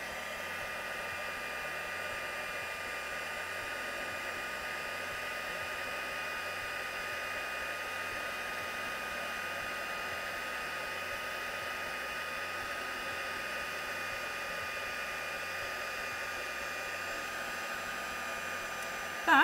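Heat tool blowing hot air to melt embossing powder on a card, a steady close whirring hiss that runs unbroken throughout.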